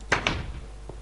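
A wooden door in Minecraft shuts with two quick thuds close together, then a fainter knock follows a moment later.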